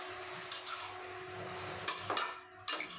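Echor chingri (jackfruit and prawn curry with spices) stirred and fried in a pan over a low-medium gas flame: a steady soft sizzle with several sharp metallic scrapes and clinks of a spoon against the pan, close and fairly quiet.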